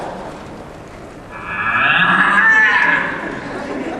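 A person imitates a cow with a drawn-out, wavering moo lasting a couple of seconds, close and fairly loud.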